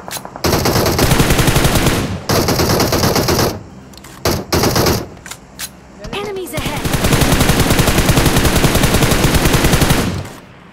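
Bursts of automatic M416 rifle spray fire in the mobile battle-royale game PUBG Mobile, loud and close, with several long sustained volleys broken by short pauses and a few quick shorter bursts.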